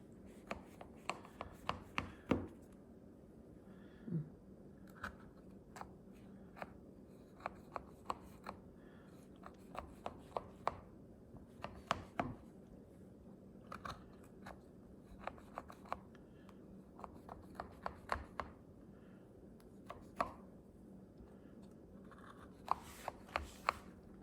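A sharp knife scores through layered baklawa in a diamond pattern, giving repeated crisp crunching cuts and clicks against the tray, spaced irregularly and close by, with no talk.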